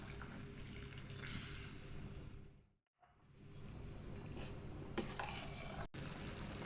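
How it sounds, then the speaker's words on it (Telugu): A glass of water poured into a pot of boiling sago, a continuous close splashing gush, then a brief pause and a second run of pouring and bubbling, alone without talk. "అందుకని ఇంకొక గ్లాస్ వాటర్ యాడ్ చేస్తున్నా."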